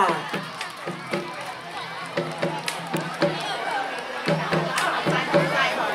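An audience claps to welcome the yellow team's dance performance at a school color-team event; scattered, uneven clapping and crowd chatter rise and fall, with a voice speaking over it.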